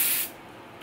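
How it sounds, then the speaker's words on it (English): A close, loud burst of hair spray from an aerosol can onto thick, fine-textured hair, a single hiss lasting about a quarter second before cutting off to quiet room tone. "Gonna spray it again."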